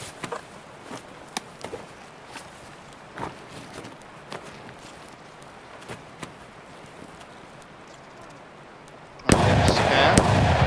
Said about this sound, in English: Okay, I'm being shot at, dude.